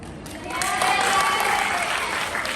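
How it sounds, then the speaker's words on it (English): An audience bursts into hand clapping, swelling quickly to sustained loud applause before gradually easing off. "Why don't we reward ourselves with some hand clapping?"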